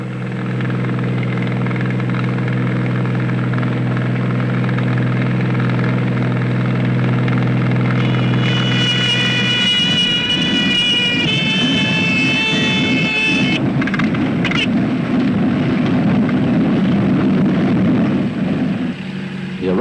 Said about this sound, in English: The arrival of the gleaming Cessna 206 of the Capuchin Mission is always a great event for the people, wherever it may land.